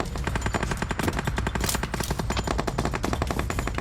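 Rapid automatic gunfire in PUBG Mobile, a loud, close, continuous stream of evenly spaced shots with no pause throughout.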